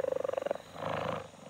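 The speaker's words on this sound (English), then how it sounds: "It's a jaguar." A cartoon jaguar purrs in a quick, rhythmic series of close, soft pulses, then shifts into a longer, rougher rumbling breath, heard alone without talk.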